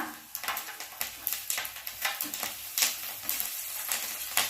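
Black cumin, green chillies and garlic sizzling in hot oil as a bright, crackling hiss, broken by frequent quick stirring scrapes in a brisk, uneven rhythm, close and clear.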